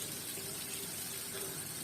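Water poured into a cooking pot of sautéed vegetables, running steadily, a continuous soft splashing pour heard close up at low volume, with no talking.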